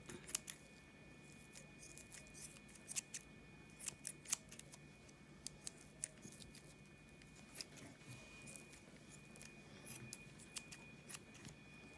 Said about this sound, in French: Donc je vais ciseler la tranche de jambon avec le ciseau.